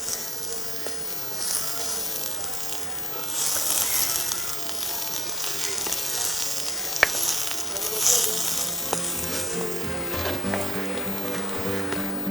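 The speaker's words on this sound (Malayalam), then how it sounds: "അതിലോട്ട് നമ്മൾ ഇറുത്ത് വെച്ചേക്കുന്ന ഞണ്ടിൻ്റെ മാംസം ഇട്ട് കൊടുക്കാം" Crab meat sizzles as it fries in a roasted spice paste for a Kerala village crab thoran. The frying is a steady crackling hiss, with a few clinks from utensils near the end.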